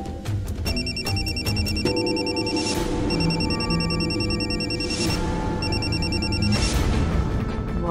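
An unanswered phone keeps ringing, its electronic ring repeating in regular bursts over a tonal musical backdrop, loud and continuous, with no one speaking.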